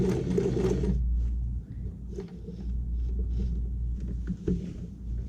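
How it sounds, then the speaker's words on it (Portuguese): A sewing machine stitches fabric lining for a zippered pouch, a close, steady low motor whir with rapid stitching that slows and shifts midway, then carries on. "Vou costurar até essa marcação aqui."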